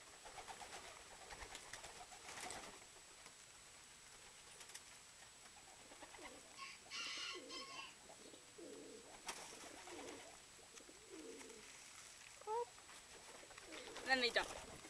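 A flock of Archangel pigeons coos softly while feeding at a food dish, with repeated low murmuring calls and some brief higher chirps near the end, heard at modest distance over faint background noise.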